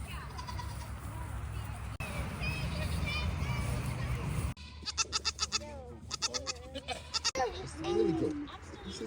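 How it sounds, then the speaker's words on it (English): A billy goat on a farm bleats repeatedly in loud, wavering calls up close, with a steady background noise and some human voices mixed in. "Billy goat. It's a Billy goat."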